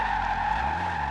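Car tires skidding and squealing as a car drifts in the racing game Forza Horizon 2, a steady continuous screech over engine drone, loud and close throughout.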